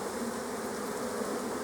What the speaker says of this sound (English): you can thump all those bees on the ground